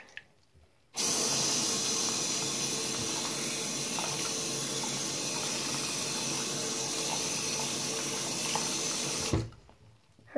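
Tap water runs steadily into a bath while baby dolls are rinsed, a continuous splashing rush that starts abruptly, holds evenly for about eight seconds, then cuts off into near quiet.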